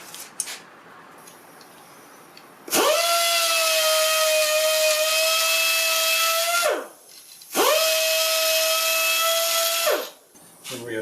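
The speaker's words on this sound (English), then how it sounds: "I need to grind these ferrules so that they will slide over this step that I've made" A power tool grinds metal ferrules for an A/C hose repair in two sustained, loud, high whining bursts of several seconds each, separated by a short pause, with faint handling noises before the first.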